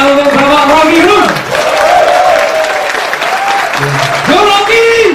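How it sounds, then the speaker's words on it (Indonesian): An audience applauds Rocky Gerung at a lively public lecture: dense, steady clapping runs throughout beneath a loud, animated voice speaking over the crowd. "tepuk tangan untuk Bapak Rocky Gerung"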